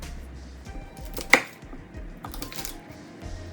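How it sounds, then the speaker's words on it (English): Knife chopping asparagus on a cutting board: a run of quiet irregular taps with one sharp louder chop near the middle, close by and with no talk. "We're going to chop the asparagus."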